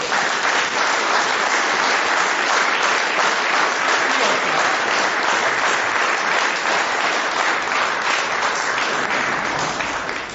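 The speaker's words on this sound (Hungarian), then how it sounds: "Köszönöm a tapsot." Loud, dense audience applause at a Hungarian stand-up comedy show, a continuous wash of many hands clapping for about ten seconds without pause or speech.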